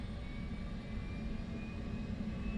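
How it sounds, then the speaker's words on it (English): F/A-18 Hornet auxiliary power unit spooling up in DCS World, a steady loud turbine whine with a strong low rumble and faint high tones, continuous with no voices. "let's turn battery on, get our APU started"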